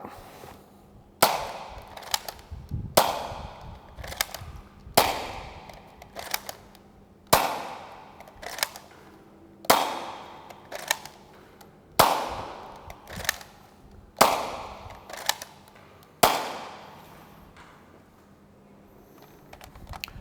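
A Buzzbee Toys Thundershot toy blaster fires foam darts during a range test, with about nine sharp, snappy shots at evenly spaced intervals of roughly two seconds. Each shot is loud and close and fades quickly, and no one talks.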